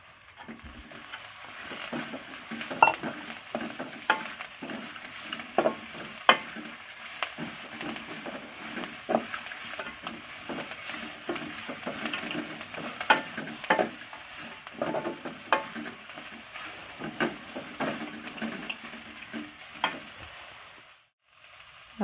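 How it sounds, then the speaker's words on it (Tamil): Curry leaves sizzle in hot oil in a pan for a leaf chutney, with a steady frying crackle and repeated scraping stirs of a spoon, close and alone without talk. "கருவேப்பிலை லேசாக வதங்கினா போதும்."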